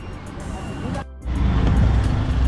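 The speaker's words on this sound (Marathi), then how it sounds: "आणि माझी गाडी आली आहे बघा." A car pulls up on a Jogeshwari street while neighbourhood cricket is being played nearby, giving a steady low engine and road rumble that dips briefly and then swells louder and closer.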